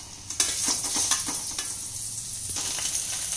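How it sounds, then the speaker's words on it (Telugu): Ginger garlic paste frying in hot oil gives a steady close sizzle with scraping stir strokes at irregular intervals, and no voices. "అల్లం వెల్లుల్లి పేస్ట్ కొంచెం ఫ్రై అవ్వనివ్వండి"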